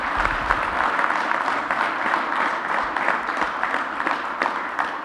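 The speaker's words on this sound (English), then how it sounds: "Why don't we give them a big round of applause?" People at an AFL-CIO press conference give a round of applause, a fairly small group clapping at close range with distinct individual claps audible throughout.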